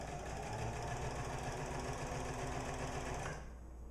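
A sewing machine driven by its foot pedal runs with a loud, continuous mechanical whir and rapid stitching rhythm close by, then cuts out abruptly near the end.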